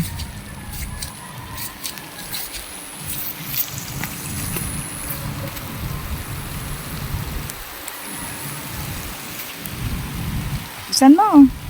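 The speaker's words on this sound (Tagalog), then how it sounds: "Yan, malakas na may ulan." Steady heavy rain patters on surfaces with a rumbling low undertone, continuous for the whole stretch, and a brief louder burst near the end.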